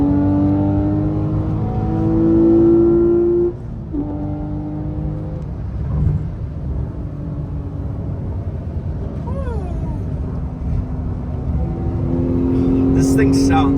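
A sports car engine drones steadily during a toy rally, its harmonic hum shifting in pitch as it drives along in a line of traffic behind a McLaren 720S, with a brief dip midway and a rising rev near the end, while people talk over it.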